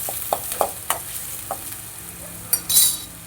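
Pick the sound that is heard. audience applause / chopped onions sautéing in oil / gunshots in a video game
chopped onions sautéing in oil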